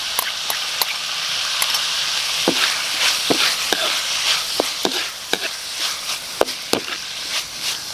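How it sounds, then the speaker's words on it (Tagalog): Crushed liver goes into a hot pan of adobong sisig, with a steady close sizzle and frying hiss punctuated by repeated sharp clicks and scrapes of a utensil stirring, no talk. "ilalagay na natin yung ating atay na dinurog"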